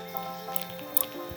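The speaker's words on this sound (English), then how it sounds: "So I'm just gonna pour out a little bit of each." Chilean Pisco trickling into a glass in a short, faint pour, with soft liquid drips and a brief clink near the end, set against quiet room tone.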